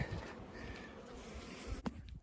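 Honey bees buzz at an open beehive, a faint steady drone with a brief louder pass near the end, heard close with no talk.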